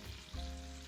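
Onions and peppers sautéing in a pan for a lamb chop dish, a steady close sizzle that swells into a louder, fuller frying hiss partway through and holds, with no talk.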